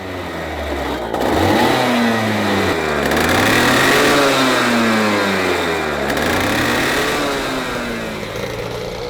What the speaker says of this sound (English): We're just warming up the engine